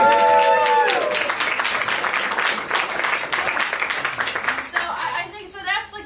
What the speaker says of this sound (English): you clap here